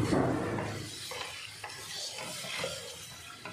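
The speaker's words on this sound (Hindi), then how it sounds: "मटन को मिक्स करेंगे इसके अंदर।" Boiled mutton pieces being stirred into sizzling spices in a pan for yakhni pulao, a steady frying hiss with soft scraping strokes of the spoon, close and continuous.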